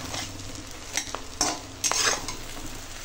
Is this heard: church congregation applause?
no